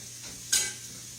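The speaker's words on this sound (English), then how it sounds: "I love to smell onions and celery sauteing" Onions and celery sauté in a pan with a soft, steady sizzle. A single brief scrape or clink of stirring stands out midway.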